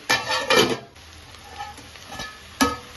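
Brinjal curry with chilli powder and tomatoes cooks in a pan and is stirred, giving scraping spoon strokes against the metal over a soft sizzle, with a louder scrape near the end and no talking.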